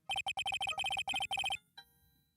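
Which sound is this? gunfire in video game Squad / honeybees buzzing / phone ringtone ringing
phone ringtone ringing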